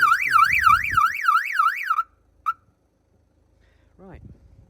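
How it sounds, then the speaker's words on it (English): A loud car alarm on a 1988 Mercedes-Benz 190E (W201) warbles rapidly up and down, then stops abruptly, followed by a brief chirp and some low rumbling. "Well, that was the alarm going off"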